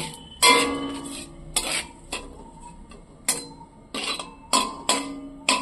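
A bay leaf and a dried red chili dropped into hot oil in a pan, with a run of sharp, bright clinks and taps from a utensil against the pan and light sizzling between them, close and with no talking.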